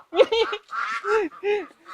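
Eeliang ducks on a Thai duck farm give four loud, close, raspy quacks in quick succession, each short and nasal, with brief gaps between them.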